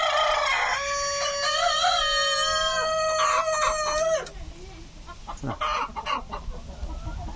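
A rooster in a flock of mixed-breed chickens at a Buddhist temple in Sisaket, Thailand, lets out a long, loud, close crow, then scattered clucking and scuffling follow against light background noise.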